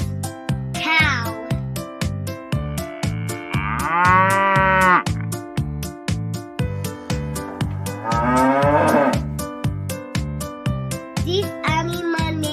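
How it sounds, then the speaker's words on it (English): A cow moos twice in long, drawn-out calls over a steady rhythmic musical backing, the lowing standing out clearly and loudly. "This animal name is cow."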